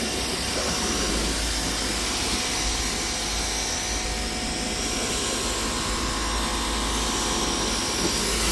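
A Ryobi electric pressure washer runs steadily and loudly, with a dense hissing water spray over a constant motor drone and no pauses.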